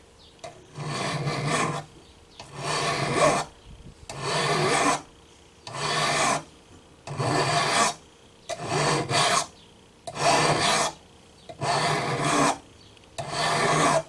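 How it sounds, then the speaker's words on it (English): Big roughing file rasping along a steel karambit blade edge, heard as about eight steady, loud back-and-forth strokes of roughly a second each, evenly spaced and close up, with no talking. "I use this big file for roughing."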